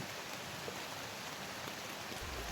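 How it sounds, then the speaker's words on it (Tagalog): Steady hiss of rain falling on surfaces, an even broadband wash with no voices, holding at the same level throughout. "Kagaya nito, umuulan."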